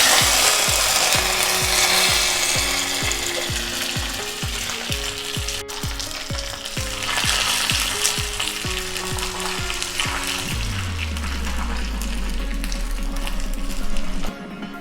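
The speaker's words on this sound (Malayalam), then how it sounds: "കടുക് വറുത്തത് ചേർക്കുകയാണ്." Mustard seeds, dried red chillies and curry leaves sizzle steadily in hot oil while tempering for a tangy bilimbi curry, with a continuous close frying hiss throughout and rhythmic scraping or ticking taps in the first ten seconds.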